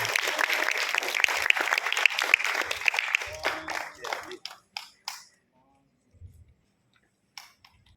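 An audience at a law school client consultation competition ceremony applauds for Miss Ayman, dense clapping that thins into scattered individual claps and then fades to near silence with a few stray claps.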